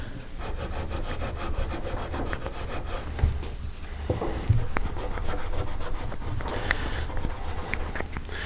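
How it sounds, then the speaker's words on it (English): Steel wool rubs over a Promaster City headlight assembly in a fast, steady back-and-forth scrubbing, close and continuous with a few brief knocks along the way. "Just take some steel wool, just give it a quick sand."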